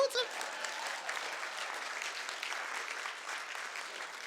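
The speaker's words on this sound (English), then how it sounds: "y'all should be applauding" Audience applause at a Black History Month celebration in Hastings, dense continuous clapping at moderate level, with a brief tone at the start and faint voices mixed in.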